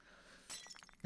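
A glass heart shattering in the game One Thousand Lies: a quiet lull, then a bright crack and a scatter of tinkling shards, ending in a sharper final clink.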